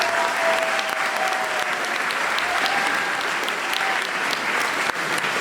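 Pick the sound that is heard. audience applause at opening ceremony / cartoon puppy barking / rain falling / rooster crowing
audience applause at opening ceremony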